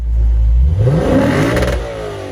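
A Lexus 5-liter V8 engine making 471 horsepower revs hard, rising in pitch, then settles into a throaty growl, loud and close with no voices.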